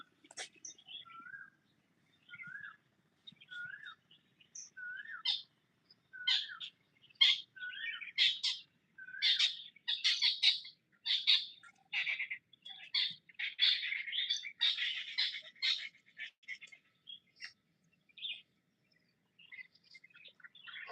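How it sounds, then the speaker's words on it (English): Several birds call and sing outdoors in natural surroundings, with repeated chirps and whistled phrases building into dense overlapping song in the middle before thinning out again near the end. "I was listening to the sound of the birds carefully."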